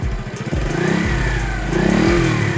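A Rusi DL X 110 Delta underbone motorcycle engine revs up and holds steady up close, its buzzy note climbing and settling over repeated throttle blips.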